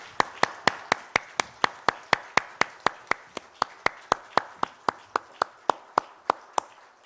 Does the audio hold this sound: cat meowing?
no